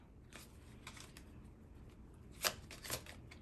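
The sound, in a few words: shuffling a deck of tarot cards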